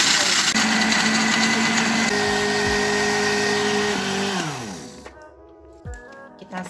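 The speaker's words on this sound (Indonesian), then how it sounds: "sekarang kita akan menghaluskan cookies kejunya ya guys nih, dengan cara memblender" A kitchen blender grinds cheese cookies with a loud, steady, high-pitched whir, then its motor winds down to a stop, leaving quiet clatter as the jar settles.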